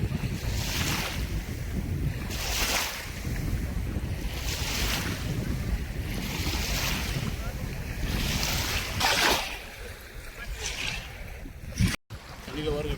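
Ocean waves roll in at Corniche Beach in Abu Dhabi, surging in repeated rhythmic swells mixed with gusting wind noise on the microphone, while people talk nearby.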